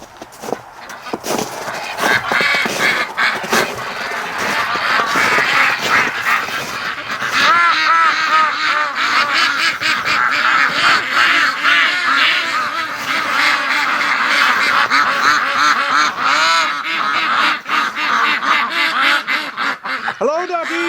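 A flock of breeding ducks, including Rouen ducks, quacks loudly and continuously in a dense chorus of overlapping calls, close by, while a person talks among them.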